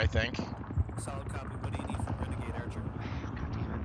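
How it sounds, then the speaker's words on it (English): A military helicopter in the Arma 3 combat game flies overhead with a steady rotor and engine drone, held at even level beneath frequent radio chatter and players talking throughout. "Okay, that's a helicopter,"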